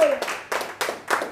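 A church congregation claps together for Jesus, four or five firm rhythmic bursts of hand clapping in a reverberant hall.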